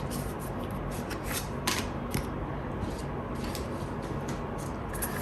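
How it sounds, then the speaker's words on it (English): Tarot cards are shuffled by hand, giving soft continuous rubbing and riffling with a few sharper flicks and snaps, close and fairly quiet, with no speech. "so you can see the cards that I'm shuffling"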